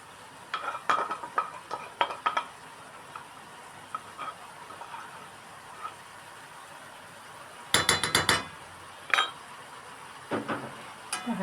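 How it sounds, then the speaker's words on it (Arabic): Liver, gizzards and mashed garlic fry gently in a pan while a utensil stirs and scrapes, with clustered metallic clinks over a soft, steady sizzle. "وهنقلبها كده نحمرها ونقلب كله مع بعضه"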